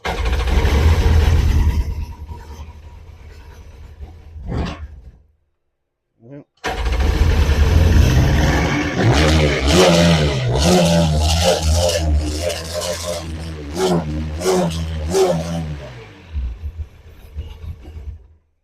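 A 2003 Sea-Doo 951 GTX DI jet ski engine cranks and cuts out, then starts again and runs roughly with an idling problem, revving up and down unevenly as a voice speaks over it.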